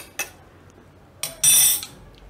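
A spoon scoops maida flour into cooled mawa for gulab jamun, giving a few light, close metallic clinks and taps against a bowl, with brief pauses between them.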